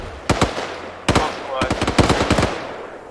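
Loud bursts of rapid gunfire in Arma 3, a military shooter, crackle in three clusters of sharp cracks, with a voice talking in between.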